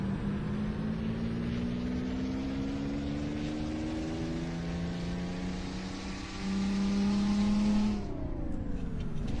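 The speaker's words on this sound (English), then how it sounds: "Listen to that engine." A Peterbilt 389 with a Detroit Diesel engine roars loudly in American Truck Simulator, its pitch climbing steadily before a sudden gear-change drop near the end.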